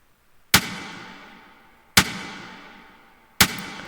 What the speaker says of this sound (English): Added a bit more reverb, and this is to make the snare stand out a little bit more.